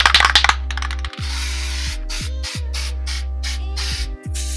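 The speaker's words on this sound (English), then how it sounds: "So I gave them another coat of the spray" Aerosol spray coating applied to taped-down cosplay gloves and gauntlets: several short hissing spray bursts in an uneven rhythm, some with sharp starts and stops, close up over a steady low electrical hum, with no talking.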